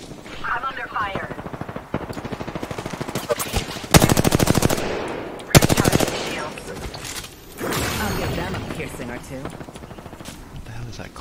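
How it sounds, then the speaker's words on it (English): Machine gun fire in a video game comes in loud rapid bursts near the middle, with sustained rattling between quieter stretches as players talk over it. "I'm under fire."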